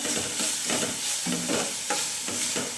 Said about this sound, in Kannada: ಈಗ ಆಲೂಗೆಡ್ಡೆ ಇದು ಬೇಯ್ತಾ ಇದೆ